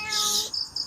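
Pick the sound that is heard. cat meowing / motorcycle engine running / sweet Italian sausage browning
cat meowing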